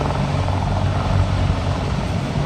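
A helicopter doing a max performance takeoff at an air show, its rotor and engine roaring steadily and loudly throughout, dense low thumping under a broad wash of noise.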